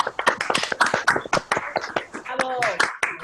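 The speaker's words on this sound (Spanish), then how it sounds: "les pido un fuerte aplauso para Alonso" Sparse handclaps from an audience at an online training session, thin and scattered rather than a full ovation, with a person talking over them throughout.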